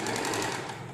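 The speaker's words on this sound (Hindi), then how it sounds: "अब इसमें सिलाई दें," A sewing machine stitches pieces of a blouse, its needle running in a rapid, even mechanical chatter, close and loud for a brief second.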